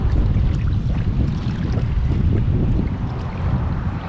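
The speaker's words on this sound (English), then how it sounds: "It's just all that wind." Strong wind gusts buffet the microphone on a fishing bank, a steady heavy low rumble and roar throughout with no voices.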